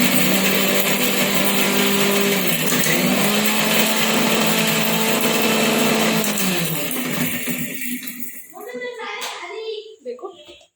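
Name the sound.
mixer grinder crushing green chillies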